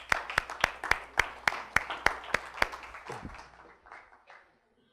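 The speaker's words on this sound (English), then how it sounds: "Another round of applause." A short round of audience clapping at a talk on the opioid crisis, a dozen or so sharp, evenly spaced claps that thin out and fade to silence.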